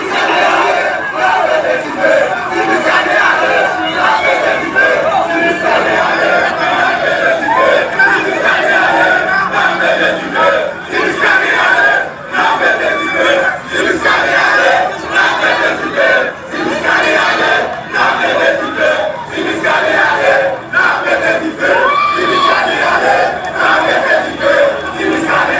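A huge crowd at a rally roars and shouts continuously, loud and near, with massed voices swelling and dipping in waves throughout.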